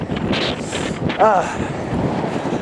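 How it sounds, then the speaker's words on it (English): Strong, cold, biting wind buffets the microphone outdoors on a walk, a steady low rumble with gusts, with a person talking throughout. "You probably can't hear me because of the wind."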